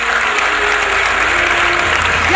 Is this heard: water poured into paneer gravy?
no